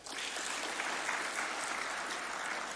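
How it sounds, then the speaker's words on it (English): Audience at State House in Nairobi applauds steadily for the women's national football team, a dense, continuous patter of clapping from many hands, moderately distant and without pause. "Gaudensia Maloba, a round of applause for her,"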